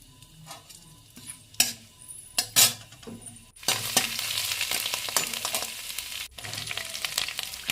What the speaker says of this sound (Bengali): গোটা গরম মশলা, এলাচি আর লং দিয়ে দেব।